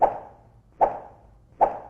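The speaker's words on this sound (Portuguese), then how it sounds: "Já o som de pular é um pedaço de pau batendo no ar." Stick swung through the air as a Roblox-style jump effect: three short, sharp whooshing pops evenly spaced about 0.8 seconds apart, each fading quickly, close and alone with no talk.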